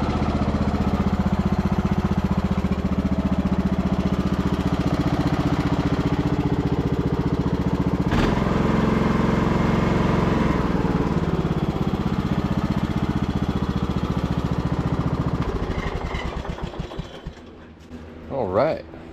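A Bolens riding mower engine runs steadily and close for a long stretch, a droning mid-pitched idle with a brief change partway, then winds down near the end; a voice talks briefly.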